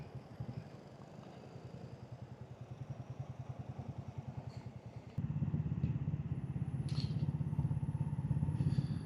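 An air-cooled Royal Enfield Bullet 350 single-cylinder engine thumps steadily at idle in city traffic in Singapore, its pulsing beat loud and close, rising slightly in revs halfway through with a faint high tone above.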